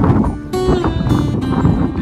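Wind gusting steadily outdoors at a Western-style saloon set, a constant broadband rush with a few louder surges and faint background sounds.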